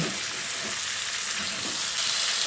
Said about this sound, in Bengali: তো হলুদের গুঁড়ো আর কাশ্মীরি লঙ্কার গুঁড়োটা দিয়ে আবারও চিকেনের সঙ্গে খুব ভালো করে নেড়ে চেড়ে মিশিয়ে নিচ্ছি